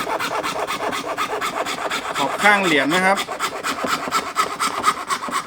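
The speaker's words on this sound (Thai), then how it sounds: "ตรงนี้ ใบเลื่อยเข้าไม่ได้แล้วนะครับถอนออกมา ค่อยๆถอนออกมานะฮะเดี๋ยวใบเลื่อยจะหัก" A hand saw cuts through a piece of plastic with quick, regular rasping strokes, close and steady, while someone talks briefly partway through.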